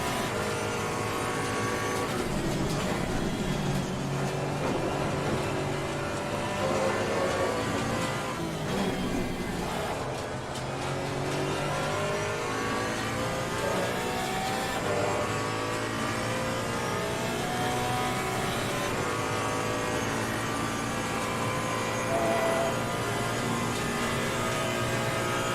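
A Porsche GT4 race car in Assetto Corsa Competizione, racing at the Nürburgring, revs hard and continuously, climbing and dropping through the gears for the whole stretch, loud and close with no talk.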